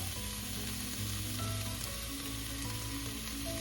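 Bacon fat sizzles in a hot pan on medium-high heat, a loud, steady, close crackling hiss that runs unbroken throughout with no voices.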